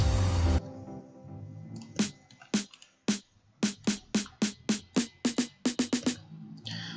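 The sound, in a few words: snare drum roll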